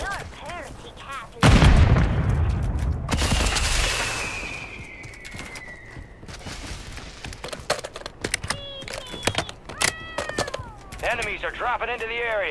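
A party cat meows repeatedly in Call of Duty Warzone III, wavering cries scattered between bursts of gunfire and explosions, with voices talking over the game action.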